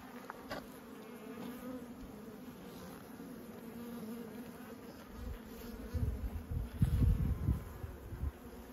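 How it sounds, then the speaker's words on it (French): Honeybees buzz steadily around a hive at a quiet apiary, a soft continuous drone that swells louder near the end as bees fly close. "Mis à part le bruit des abeilles qui tournent autour, il n'y a pas un bruit."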